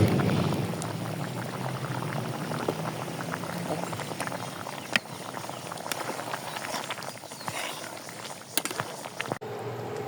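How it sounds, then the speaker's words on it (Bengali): Chicken curry of desi country chicken boiling in a covered pot, a steady dense bubbling and hiss running throughout, with a couple of brief knocks. "দেখেন মাংস বলক চলে আসছে।"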